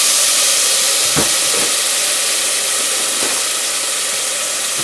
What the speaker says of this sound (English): I'm going to cook my onions first. I'm going to go ahead and put them on in.